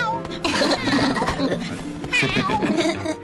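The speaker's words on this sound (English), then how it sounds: "he's chasing a cat with a fish in its mouth for some reason" A cartoon cat meows and yowls loudly while being chased with a fish in its mouth, cries repeating over a busy, dense background of animated-show sound.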